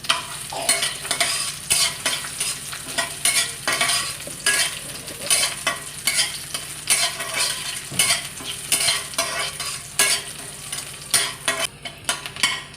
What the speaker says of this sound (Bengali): তো প্রথমে তেল দিয়ে দিলাম, পেঁয়াজ কুচি, একটা মরিচ দিয়ে দিলাম, রসুন কুচি, এগুলো দিয়ে এখন একটু বেরেস্তা করে নেব আগে।